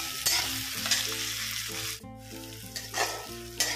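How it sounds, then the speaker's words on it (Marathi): Chopped onion and tomato frying in a pan, a continuous close sizzle broken by repeated scraping and clanking of a spoon as they are stirred, loud and with no speech. "चला तर आपला कांदा आणि टोमॅटो छानपैकी गळत झालेला आहे."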